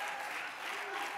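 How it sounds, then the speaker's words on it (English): A church congregation clapping their hands during a sermon, a dense, continuous patter of applause with voices faintly mixed in. "Somebody clap your hands to the Lord."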